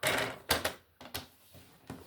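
A paper trimmer cuts through scrapbooking paper in a few quick, close clacking strokes and slides, spaced irregularly with brief pauses between, without any talk.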